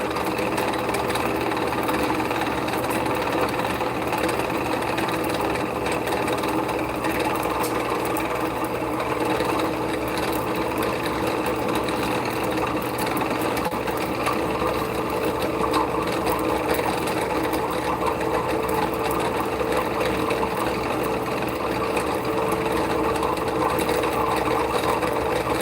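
A fishing line spooling machine running steadily, a constant close mechanical whir and rattle that holds at an even level throughout with no pauses.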